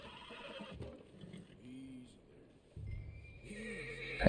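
A horse neighs in the video game Red Dead Redemption 2, two clear whinnies separated by a pause, fairly close over quiet ambient game sound with no talk.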